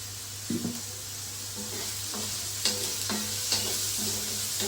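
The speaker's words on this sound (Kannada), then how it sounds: "ಈರುಳ್ಳಿಯನ್ನು ಹುರ್ಕೋತಾ ಇದ್ದೀನಿ ಹಾಕ್ತಾ ಇದ್ದೀನಿ" Onions fry gently in a pan for dhaba-style paneer butter masala, a soft, fairly quiet sizzle with a few distinct stirring scrapes and knocks spread through it.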